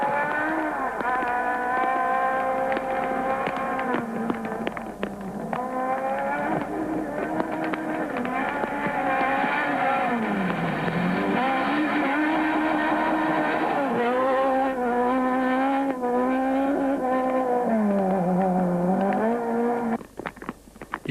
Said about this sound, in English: note also of the excessive wheel spin in the mud, with the engine constantly hitting the rev limiter.